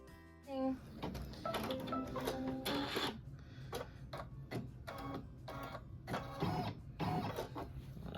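A computerized embroidery machine stitches a Kimberbell Main Street Celebration pickup truck quilt block, its rapid mechanical needle chatter running steadily and close, with brief pauses and pitch changes between stitching runs.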